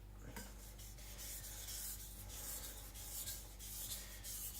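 An IKEA Chinese cleaver is drawn steadily across a whetstone, a continuous gritty scraping rub at moderate, even loudness with a low hum underneath and no talking.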